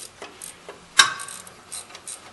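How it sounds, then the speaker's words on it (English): A ratchet works on the alternator adjustment-bracket bolt of a 2000 Toyota 4Runner, giving faint, brief mechanical clicks with one sharper metallic click near the middle, close by and without talk. "If you just take that bolt out,"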